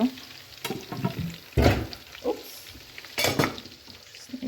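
Chicken fries in a pan at home, a soft steady sizzle broken by a few louder bursts of scraping and stirring, close by, with no talking.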